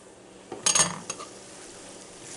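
Sloppy joe mixture being stirred in a Copper Chef pan: a quick cluster of utensil scrapes and clinks over a faint sizzle, then quieter cooking.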